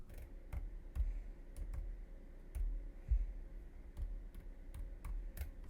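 Typing on a computer keyboard, a sparse run of quiet, close clicks and key thumps spaced irregularly over a faint background hum, while making print-then-cut stickers with a Cricut.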